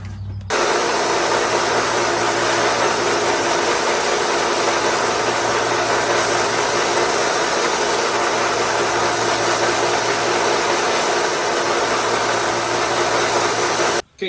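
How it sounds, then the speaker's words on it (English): A sander runs steadily on a Case XX pocket knife, giving a loud, continuous abrasive whir that holds unbroken for about fourteen seconds before cutting off. "We're fixing to hit that with a sander now."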